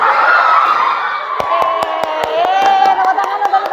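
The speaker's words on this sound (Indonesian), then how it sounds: "Tepuk tangan untuk kita semua." Classroom applause during a teaching practice session in Indonesia, a burst of sharp, fairly loud claps mixed with children's voices and shouting that runs over the second half.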